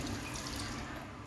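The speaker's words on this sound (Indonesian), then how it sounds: "Cucilah daun sirih hingga bersih." Betel leaves being washed under a steadily running tap, a continuous close splash and rush of water into a sink with no pauses.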